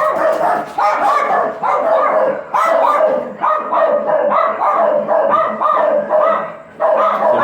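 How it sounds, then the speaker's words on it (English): A pack of loose dogs barks continuously outside, rapid overlapping barks and yips at moderate distance with no pause. "Some loose dogs out."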